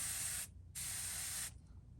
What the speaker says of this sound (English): So we'll test our gun, make sure it's spraying,